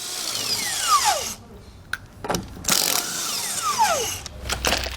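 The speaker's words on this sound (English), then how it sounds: "we'll then remove our lug nuts. We're using a 3/4 socket to do so" Power tool whirs up and down in bursts while removing wheel lug nuts with a 3/4 socket on a 2021 Grand Design trailer, several loud rising and falling spins with short pauses between them.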